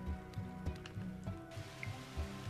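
Rain falling in The Universim, a soft steady patter with periodic low thuds under a faint game ambience, quiet and without talk.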